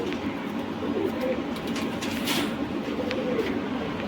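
Allahabadi pigeons coo softly amid a dense, steady background of bird noise and rustling, close and continuous, in Wadala East, Mumbai.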